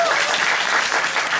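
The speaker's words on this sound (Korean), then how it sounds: "박수 한번 드리겠습니다" Audience applause for a musical's music team at a curtain call: dense, close clapping from a theatre crowd, steady and loud for the whole brief moment.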